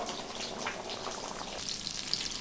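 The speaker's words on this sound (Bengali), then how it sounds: "মাছের পিস একদিকটা ভাজা হয়ে গেছে, আমি অপর দিকটা ভেজে নেব।" Fish pieces fry in a pan, a steady close hiss and crackle of oil running unbroken throughout with faint popping spatters near the end.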